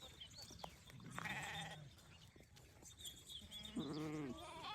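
Several sheep bleat nearby on a village road, with a couple of distinct wavering calls over a busy outdoor background.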